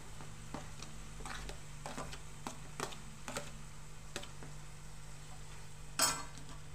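Tomatoes going into a hot pan for a fenugreek-leaf, tomato and moong dal curry, giving a faint steady sizzle with soft intermittent clicks of a spoon stirring and one sharper clatter near the end.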